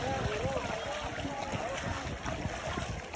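Water splashing and sloshing around a small boat off the Gigantes Islands, Philippines, with a continuous rushing wash and wind noise close up.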